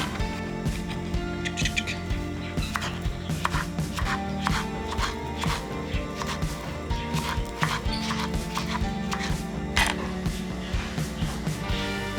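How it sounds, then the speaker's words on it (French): A knife cuts through plantain bananas, giving a run of quick, sharp taps at an uneven pace over several seconds, set against a steady tonal hum in the background. "Et je peux enfin couper mes bananes plantain."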